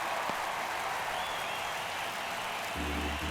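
Baseball stadium crowd at a Mets vs Marlins game in the ninth inning, a steady wash of distant applause and crowd noise that holds at an even level throughout.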